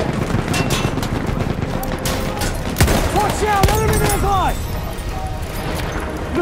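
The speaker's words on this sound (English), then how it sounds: "Look out! Machine gun!" Machine-gun fire in Battlefield 1 during an operations battle on the Volga River, a dense, continuous crackle of bursts and distant booms under shouted in-game voices.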